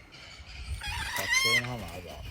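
Farm fowl kept together in an enclosure, seen on a trip in Russia, give a short crowing, clucking call partway through, close by and mixed with people talking.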